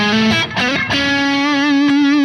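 Distorted electric guitar through a Neural DSP Soldano SLO-100 amp plugin, normal channel with crunch enabled, a few chords then a long sustained note ringing out loud and alone.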